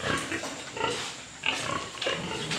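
A pig grunts on a farm in rough, repeated bursts, moderately close, with a steady background of other farm noise.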